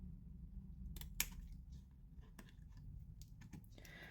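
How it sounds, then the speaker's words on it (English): Scissors cutting and trimming papercraft card for a pop-up card treat box, a few sharp snips and small clicks at close range in a quiet room, with soft rustling between cuts. "cut the 3 outer squares off completely, give this small tab a trim"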